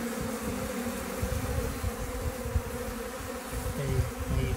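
Honey bees swarm around spilled honey, a dense, continuous buzzing drone with individual bees passing close now and then, steady and fairly loud throughout.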